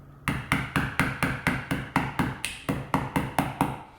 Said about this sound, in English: then hammer to get that nail to go into the bottom of your soda can